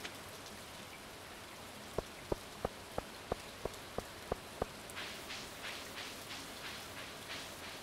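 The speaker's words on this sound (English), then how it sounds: "It's raining." Steady video-game rain hisses softly throughout in the Stardew Valley farming game, with a quick run of evenly spaced clicks near the middle and the patter growing slightly brighter toward the end.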